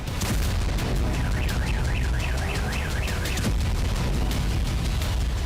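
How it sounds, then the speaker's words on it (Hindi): Loud, continuous rumbling noise with repeated sharp bangs and blasts from wartime explosions in Russia during the Russia-Ukraine war, while a car alarm wails in a rising and falling pattern. "रूसी जमीन पर एक बार फिर कई धमाके हुए।"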